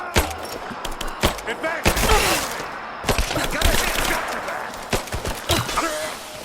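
Dense gunfire in the video game Rise of the Tomb Raider, sharp rifle shots and rapid bursts cracking close and loud throughout, with shouted combat voices and grunts mixed in.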